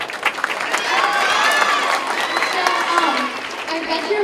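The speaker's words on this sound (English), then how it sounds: "Get a big round of applause for Jessica." A room full of youth soccer attendees at a Q&A applauds and cheers for a girl called up front, with loud clapping mixed with excited voices and squeals throughout.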